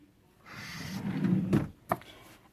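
A drawer in a craft room slides open with a smooth rolling rasp lasting about a second, followed by a short sharp knock as it stops, close and alone.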